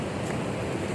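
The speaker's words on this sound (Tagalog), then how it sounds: "Ganyan kalalaki yung alon, no?" Big ocean waves on the open sea, a steady loud wash of surf blended with wind noise, continuous and close with no voices.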